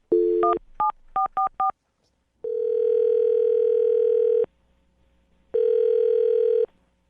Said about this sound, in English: I'm going to call the phone number right now.